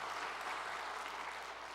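Steady applause from a church congregation at a special dawn prayer service, dense even clapping holding at the same level throughout, with no voices over it.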